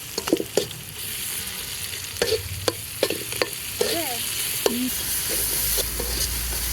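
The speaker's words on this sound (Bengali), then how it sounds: "খিচুড়ির সাথে ডিম বোনা হবে, তাই এখানে আগে ডিমটা রান্না করা হচ্ছে" An egg frying in a pan over a wood-fired stove, with steady crackling sizzle and repeated scraping strokes of a spatula, close and moderately loud throughout.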